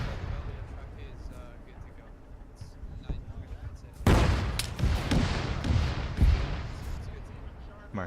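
A tank cannon blast during a Panzer duel in a WWII video game, a sudden loud boom midway followed by rumbling, crackling aftershocks and another heavy hit, over steady low battle noise with talk.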